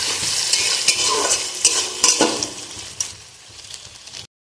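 Chopped onion and capsicum fry in a hot pan with a steady close sizzle, broken by scraping stirs and spatula knocks, before the sound cuts off abruptly at the end.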